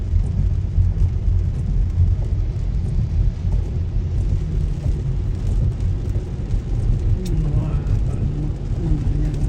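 Freeway traffic in stormy, windy weather in San Diego, California, heard from inside a moving vehicle: a steady low rumble of tyres and engines with wind noise, while a person talks over it.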